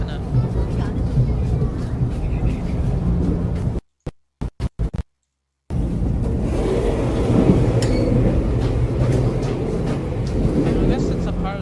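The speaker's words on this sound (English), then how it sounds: "It's a pretty sick train." A train rumbling past in the video game Overwatch 2, a steady low mechanical roar that drops out briefly midway before the continuous rushing noise resumes.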